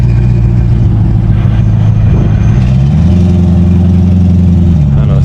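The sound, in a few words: Audi R8 engine idling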